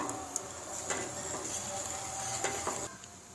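Sugar being stirred into cooked-down milk in a pot, a faint, steady scraping and swishing with occasional soft clicks of the spoon against the pot, under a constant background hum.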